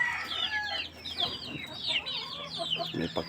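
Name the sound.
Rhode Island chickens clucking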